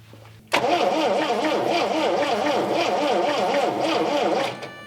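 A 1979 MG engine, just fitted with a new starter relay, cranks briefly and catches, then runs at a loud, steady, slightly wavering idle for about four seconds before the sound fades at the end.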